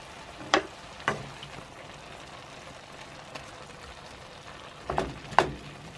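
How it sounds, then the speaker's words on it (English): Mangetout, field and runner beans, courgette, purple French beans and potatoes stir-fried in a pan with a soft continuous sizzle, broken by a few sharp utensil clacks and scrapes, close by. "Let's go stir fry it."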